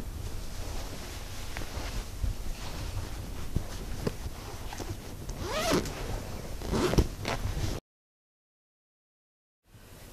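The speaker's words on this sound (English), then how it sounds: "it's a very soft, very luxurious cover, and it's very easily zipped off." A soft, luxurious memory foam mattress cover on an Amerisleep Independence bed is unzipped, giving a close, scratchy zipper run with a few quick pulls and rustles before a sudden drop to silence and a faint resumption.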